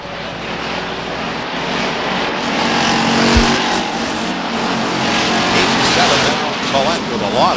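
Race cars roar around the short-track oval of Beech Ridge Motor Speedway in 1992, a dense, continuous engine drone swelling slightly as they pass, under steady announcer commentary.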